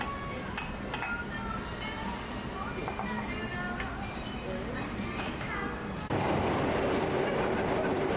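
An Osaka train runs along its rails, producing a steady rumbling roar with light metallic clinks and rattles throughout that grows noticeably louder toward the end.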